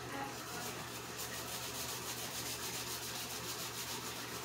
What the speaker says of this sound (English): Greater, may I grate some turmeric and some ginger in my pot